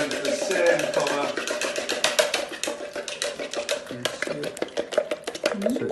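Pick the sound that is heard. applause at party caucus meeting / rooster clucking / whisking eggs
whisking eggs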